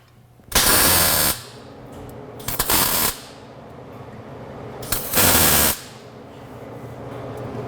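Tack welding a car tailpipe in place: three short bursts of harsh crackling hiss, each about half a second to a second long, separated by quiet pauses with a low background hum.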